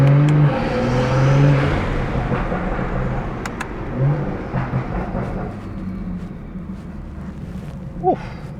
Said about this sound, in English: you guys can really hear the turbo spool and the intakes